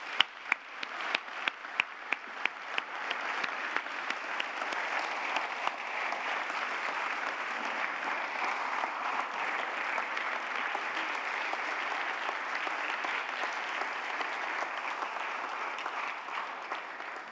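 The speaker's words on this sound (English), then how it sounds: "Let's give Slavko a round of applause." A few sharp individual claps open, then swell into steady, sustained applause from a talk audience honouring speaker Slavko Hadžić, a dense even wash of clapping that holds at a constant level to the end.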